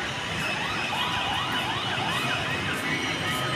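Fire truck sirens wail and sweep repeatedly at a large building fire, rising and falling tones layered over steady street noise at moderate distance, with no voices.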